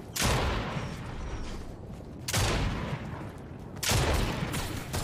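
Three heavy sniper rifle shots in the Fortnite video game, evenly spaced about two seconds apart, each a booming blast that echoes out before the next.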